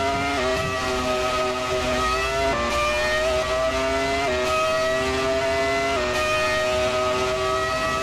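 A Ferrari F2004 Formula 1 car laps Monza in the Assetto Corsa racing game, its engine screaming at high revs with a few quick upshifts and stepped pitch changes; a continuous close onboard roar with no talk.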